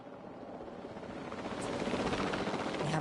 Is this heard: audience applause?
no